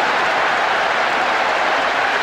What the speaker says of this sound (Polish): Tłum wypełniający stadion świętuje zdobycie bramki.